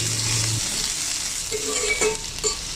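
Potatoes and chopped green chillies frying in a pan, a steady close sizzle with a few light clinks and stirring touches partway through, no voices.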